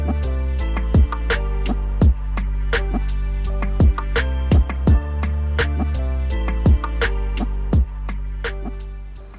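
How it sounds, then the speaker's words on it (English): Nature sounds play through a Hyundai Venue infotainment system: a steady low drone with regular, clear plinking or dripping notes repeating roughly every half second, alone and moderately loud. "It also plays sounds of nature,"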